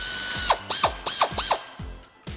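A hand ratchet clicks in quick repeated strokes while loosening the 15mm-head rear shock bolt on a 1994-2004 Ford Mustang, with a steady crisp pawl rattle about every third of a second, close up and without talk.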